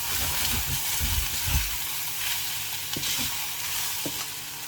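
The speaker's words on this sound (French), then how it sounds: "et je mélange" Food sizzles steadily in a frying pan seasoned with salt and pepper as it is stirred, low scraping strokes of the utensil repeating through a continuous close frying hiss.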